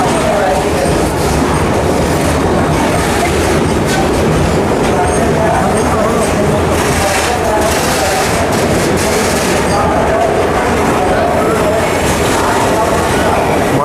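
A Jan Shatabdi Express train pulls out of Champa Junction, its steady rolling rumble and rattling wheels loud and continuous from on board, with a voice talking faintly underneath.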